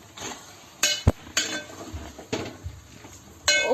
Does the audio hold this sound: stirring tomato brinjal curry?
yes